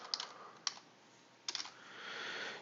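Several quick key taps on a computer keyboard, faint and close, spaced apart over a soft background hiss.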